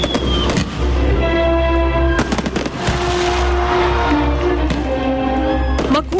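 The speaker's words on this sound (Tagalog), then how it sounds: "Makulay at talaga namang kamangha-mangha ang fireworks display." Loud, continuous bursts and crackles from a public fireworks festival display in Marikina, Philippines, with sharp repeated pops and booming blasts over a steady rumble, a crowd faintly audible beneath.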